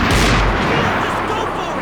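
Heavy gunfire in the video game Max Payne 3, a loud booming blast that fades into a rumbling tail.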